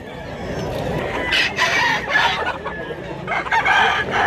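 A rooster crows loudly nearby, its strained call rising and breaking over a background of other fowl clucking.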